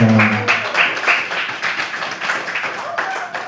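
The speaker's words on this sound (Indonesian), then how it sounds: "Tepuk tangan dulu dong." An audience claps for a couple married about 52 years, a burst of dense clapping that starts over a brief voice, then continues and thins out.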